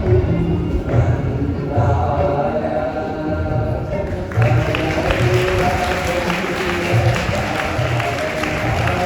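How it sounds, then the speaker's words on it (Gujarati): An audience at a school convocation ceremony breaks into sustained applause, a dense crowd of clapping hands that is loud and continuous throughout, with some cheering mixed in. "અને આપણે સૌ જોરદાર તાલીઓ કરીને તેમનું સન્માન કરીશું."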